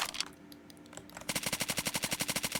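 Gunfire in a first-person shooter video game, with a few scattered shots, then a sustained rapid automatic burst of evenly spaced cracks, loud and close.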